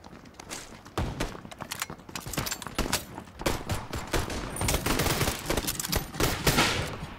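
Rapid bursts of gunfire in the battle royale game PUBG, some shots sharp and close and others in quick repeated volleys, with no talk.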